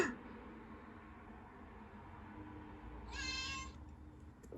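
A Gigapets Star Cat virtual pet toy gives a short, bright electronic meow near the end. Before it there is a steady low hum with no talking.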